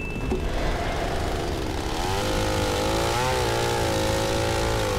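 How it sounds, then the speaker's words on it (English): A chainsaw roars steadily in the Silent Hill Homecoming video game, its engine pitch climbing and wavering before settling into a loud, continuous buzz, heard alone at close range. "That is the sound of a chainsaw,"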